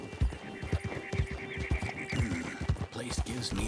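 A horse in the Red Dead Online video game clip-clops in a steady, rhythmic trot of close hoofbeats, with a whinny rising partway through.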